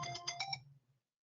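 A phone gives a short electronic ringtone, a few quick bright chirping pulses that stop abruptly and leave silence.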